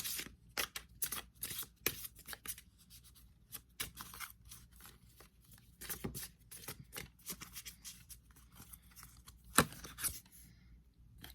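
A tarot deck is shuffled by hand in a quiet room, giving soft, irregular riffles and card flicks with brief pauses, faint and close.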